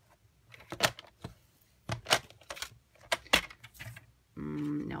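Cardstock being trimmed to size for a handmade card, heard as several short crisp cutting strokes in quick succession, followed by a steady buzzing tone near the end, with no talking.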